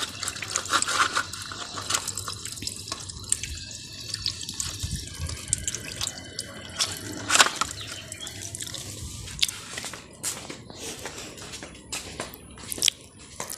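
Water runs steadily from a household tap into a sink nearby, with a constant splashing hiss broken by small clicks and knocks, and no talking.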